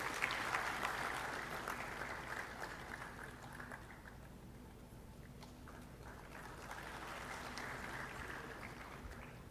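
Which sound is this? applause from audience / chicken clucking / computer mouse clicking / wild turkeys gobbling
applause from audience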